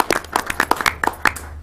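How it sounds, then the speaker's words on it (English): Brief, close applause at an Oshkosh Common Council meeting for committee members: a short, quick run of separate claps from a small group. "Just a round of applause to the committee members"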